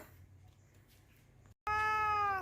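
A cat lets out one loud, drawn-out meow close by, following a stretch of quiet background.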